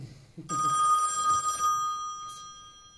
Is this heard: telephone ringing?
yes